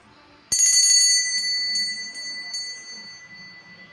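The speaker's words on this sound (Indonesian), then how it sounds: "Saya akan memulai kartu remi dengan ditandai lonceng berbunyi" A single bright bell strike rings out clearly, followed by a few lighter taps, its metallic tone lingering and slowly fading in a quiet room, marking the start of a card game.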